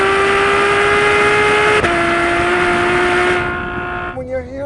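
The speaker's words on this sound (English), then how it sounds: "When you hear the word Ferrari, this is the exhaust note that you expect to hear." A Ferrari F12 Berlinetta's engine holds a loud, high, steady exhaust note near the listener, its pitch stepping down once, then fading away toward the end.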